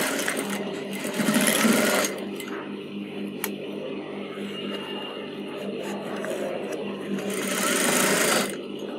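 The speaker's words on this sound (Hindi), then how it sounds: "यहाँ पे एक किनारे की स्टिचिंग लगा देनी है" Sewing machine stitching along the folded edge of a kurti's Peter Pan collar, fast whirring runs in short bursts with quieter pauses and small clicks between, close and fairly loud.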